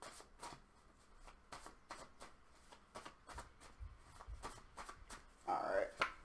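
Tarot cards are shuffled by hand in a quiet room, giving a series of soft, rhythmic riffling bursts with a brief rustling flurry near the end as cards are drawn.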